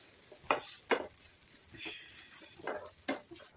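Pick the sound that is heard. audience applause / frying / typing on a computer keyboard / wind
frying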